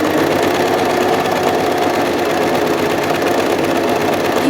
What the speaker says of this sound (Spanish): Ahora voy a hacer funcionar la máquina para que los hilos avancen